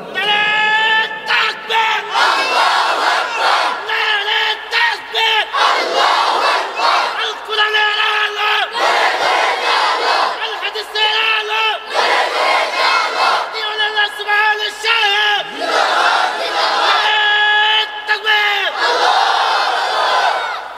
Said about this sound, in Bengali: এ দাও আবার একটা তাকবীর দি, এরা কি পরিমাণ আওয়াজটা দেয়